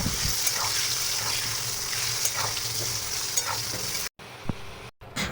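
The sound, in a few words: potatoes frying in hot mustard oil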